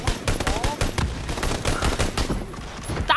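Rapid automatic gunfire in the PUBG battle royale game: a steady, fast rattle of shots firing continuously at close range, with faint talk in the background.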